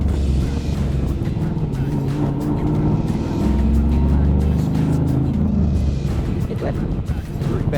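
A Toyota 86 with a swapped-in LS V8 accelerates hard through the gears, its loud, steady engine roar rising and dropping with each shift, heard close from inside the car.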